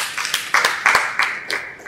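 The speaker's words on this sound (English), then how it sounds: "Please a round of applause for us." Audience applause at a talk on trade and the blue economy, with several claps landing loud and near, then a steadier patter of hands that fades a little at the end.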